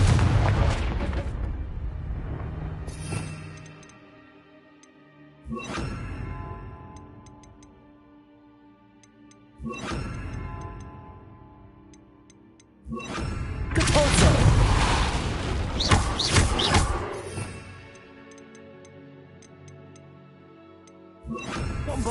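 Confringo blasting-spell explosions in Hogwarts Legacy, a wizarding video game: four heavy, booming blasts spaced a few seconds apart, each fading into a rumbling tail, with the last one longest and loudest.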